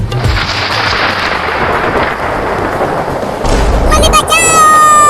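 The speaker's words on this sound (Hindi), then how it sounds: "देखो कितना बादल गरज रहा है" Deep thunder rumbles loudly through heavy rain, a sustained roar with a renewed surge partway through, and a high voice cries out over the storm near the end.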